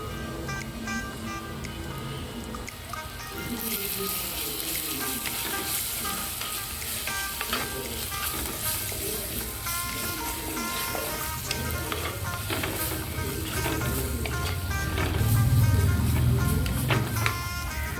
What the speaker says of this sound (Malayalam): ഈ ഒരു അരച്ചെടുത്ത മസാല കൂട്ടൊന്ന് ചേർത്ത് കൊടുത്ത് നന്നായിട്ട് ഒന്ന് ഇളക്കിയൊക്കെ